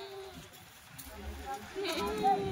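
Kathiawadi goats bleat close by, a couple of short wavering cries amid rustling and background noise.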